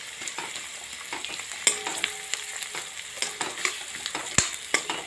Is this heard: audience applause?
no